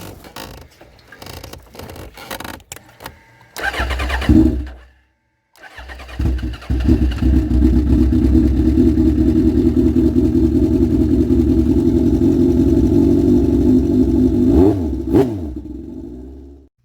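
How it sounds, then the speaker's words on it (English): A fuel-injected Suzuki Bandit 1200 motorcycle cranks over, briefly stalls, then starts and settles into a loud, steady, close idle with a slight blip near the end. "One quick start and let it warm up."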